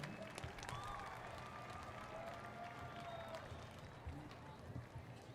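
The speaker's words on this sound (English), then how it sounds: "Please give another round of applause for Carla Coronado." Scattered applause from a crowd in the stands at a Waco ISD high school football game, University vs. Cleburne, held steady under a broad din of crowd noise and distant chatter with faint tonal sounds drifting through.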